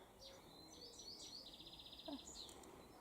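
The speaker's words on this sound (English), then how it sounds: "Can you hear the bird life?" Several quick, high-pitched bird chirps and trills float over a soft outdoor hush, moderately distant, with a brief lower call near the end, on a countryside walk in the North York Moors near Great Ayton.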